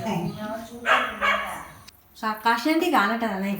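A small dog yaps and whines in short, close bursts, with a brief pause midway before the barking resumes.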